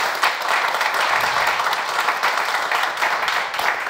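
A live audience at a Mulhouse public event gives Noémie a warm round of applause, dense continuous clapping close by with no pauses across the whole stretch.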